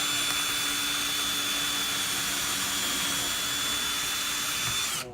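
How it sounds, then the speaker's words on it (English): A power drill with a bit pre-drills screw holes into a wooden door jamb while a door is reinforced against break-ins, a loud, steady high whine running for about five seconds before stopping abruptly. "So you have to pre-drill"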